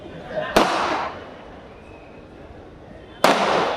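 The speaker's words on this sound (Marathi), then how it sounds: "हे जरा फटाके तर बंद करा ना" Firecrackers go off at a political rally in Thane. Two sharp bursts about three seconds apart each trail into a crackling roar, loud and fairly close.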